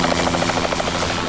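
A TV news helicopter thrums overhead with a steady, rapid rotor chop that stays loud and constant throughout, and no voices are heard.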